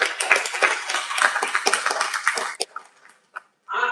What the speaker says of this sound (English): A huge round of applause for them, please